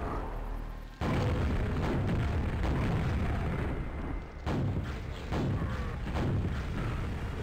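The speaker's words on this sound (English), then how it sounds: "we wanna just keep blowing up stuff left to right" Heavy, continuous explosions and booming blasts in a shooter video game, loud and dense from the first second, with a brief dip in the middle before more blasts follow.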